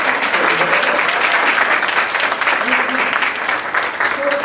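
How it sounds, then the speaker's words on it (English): Dense audience applause at a harm reduction symposium's opening session, a steady loud wash of many hands clapping throughout with a few voices faintly audible underneath. "let's do one round of applause and express our appreciation"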